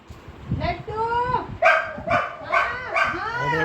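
Several dogs bark and yip in quick succession, close and loud, with short whimpering calls mixed between the barks.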